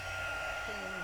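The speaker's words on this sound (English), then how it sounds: "bring in the heat gun" A steady whooshing blower like a heat gun, constant and fairly quiet, with a faint tonal whine rising in the background.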